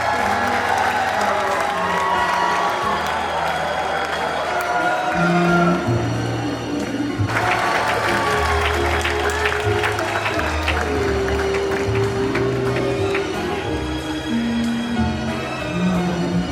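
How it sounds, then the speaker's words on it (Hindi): An audience at a school alumni meet in Mandsaur, India, claps over steady music, the applause sustained and dense, swelling briefly midway, with scattered cheers and no speech over it. "जोरदार तालियां हो जाए"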